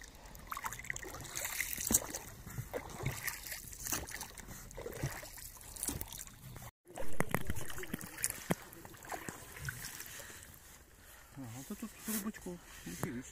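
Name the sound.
boat paddling through river water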